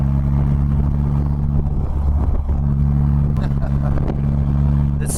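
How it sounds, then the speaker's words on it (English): A Polaris Slingshot drones steadily while driving, its engine and exhaust a low, even, diesel-like hum at about 2,000 RPM in top gear, with someone talking over it throughout. "this definitely sounds more like a recreational vehicle than it does a exotic sports car,"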